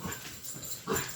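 Puppies whimper faintly in the background, with soft whining yips in short bursts, including a slightly louder one near the end.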